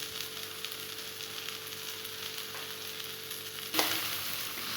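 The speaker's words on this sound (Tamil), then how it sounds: "இந்த மாதிரி எண்ணெயிலேயே வதங்கணும்." Okra sautéing in oil in a pan for a Tamil-style okra poriyal, salted, gives a steady close sizzle and crackle throughout, with a brief louder burst of frying near the end.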